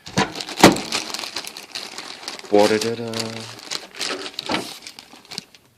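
Plastic shrink wrap crinkling on a Nintendo Super Famicom box during an unboxing, irregular rustles and crackles close to the microphone, with someone talking over part of it.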